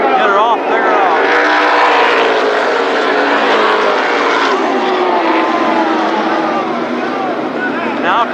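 NAMARS midget race cars at Berlin Raceway roar past in a loud, sustained engine drone with pitch sweeps as cars pass, while a track announcer talks over the noise.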